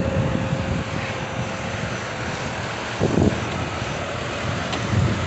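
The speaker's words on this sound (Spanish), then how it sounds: "aquí ya nos comentó Chuy que lo trae a tercera a 2000 revoluciones" Farm tractor engine, a TS6.125, running in third gear at 2000 rpm while pulling a heavy 28-disc double-section notched disc harrow across a field; a steady broadband drone with wind buffeting, and brief louder surges near the middle and end.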